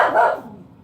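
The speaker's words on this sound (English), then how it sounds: "And that's my dog in the background." A dog barks once or twice in the background, a short mid-pitched bark that fades quickly, with no talking over it.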